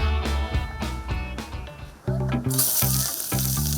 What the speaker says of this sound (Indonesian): Tumis bumbu-bumbu.